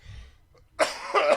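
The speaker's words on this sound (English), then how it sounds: "There's the damn bloody cough that I just can't." A man coughs twice in quick succession, close and fairly loud, after a brief stretch of low background hum.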